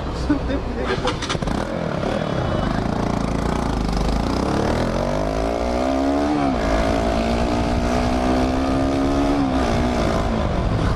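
A Crossfire RM 250 motorcycle engine idles and then revs up loudly, its pitch rising and holding in a steady drone as it pulls away, with people talking nearby.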